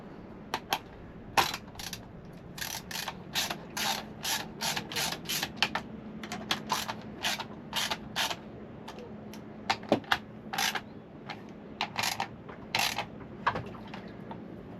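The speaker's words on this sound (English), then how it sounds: "just ease all the bolts down nice and evenly" A ratchet tightens bolts on an outboard motor during a pull cord replacement, with quick bursts of crisp, close clicking repeated in short irregular runs over a quiet background.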